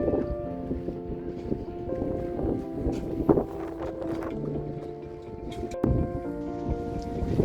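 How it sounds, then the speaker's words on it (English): Strong early-morning wind buffets the microphone over creaking and humming on a sailboat during the Midsummer Solo 2022 race, with gusts rising and falling and rigging noise throughout. "Quite windy already."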